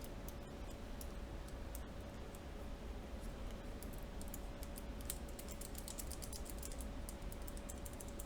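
A mechanical keyboard, a rebuilt carbon fiber LJD61u, being typed on steadily: quiet, close clicks and clacks in an uneven run over a faint constant hum, with no speech.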